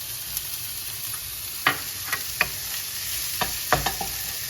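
Chopped shallot frying in smoking-hot oil in a pan, a constant sizzle with a few sharp scrapes and taps as it is stirred, close and alone.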